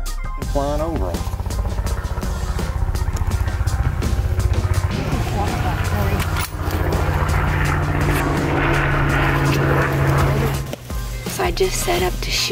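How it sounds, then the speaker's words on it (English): A helicopter flies low over Texas country during a wild hog hunt, its rotor and engine roaring loudly and continuously overhead, with voices talking underneath. "a helicopter came down and just low flew and blew the whole herd out"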